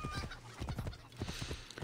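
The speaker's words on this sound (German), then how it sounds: "Und ich klaue mal eben hier das Pferd." Hooves clip-clop in a steady, repeated rhythm with a low rumbling background, a horse moving at close range with game-like ambience in Assassin's Creed Origins.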